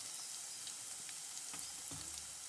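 A steady, hissing sizzle of coarsely crushed garlic frying in oil fills the clip, with a couple of faint clinks partway through.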